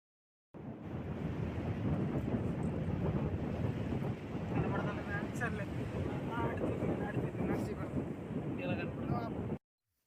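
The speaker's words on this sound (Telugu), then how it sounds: "గాలులు ఎంత వేగంగా వేస్తున్నాయో మీరే చూడండి ఒకసారి." Strong wind gusting across Perupalem beach on the West Godavari coastline, blowing sand; a continuous heavy roar buffeting the microphone with surf mixed in, loud and unbroken for most of the span, with faint distant voices briefly audible.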